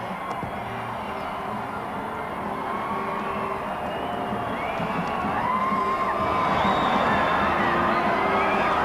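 A huge crowd gathered for the 1995 America's Cup homecoming welcome cheers and shouts continuously, a dense roar with whoops and children's yells that swells louder toward the end.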